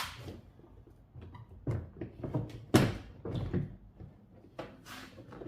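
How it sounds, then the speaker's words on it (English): Prying the interior door panel off a supercharged 2010 Audi B8 S4 gives a series of irregular plastic thunks, clicks and rattles, close and moderately loud, with one sharp pop partway through. "Now we should be able to just pull off the door panel by pulling it up here and then lifting it up."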